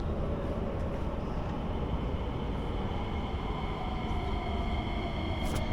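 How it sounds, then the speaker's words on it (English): A Singapore MRT train rumbles steadily at an end-of-line station, a continuous low hum with a rising whine and brief high squeal near the end, moderately loud, no talking. "but train's coming right now."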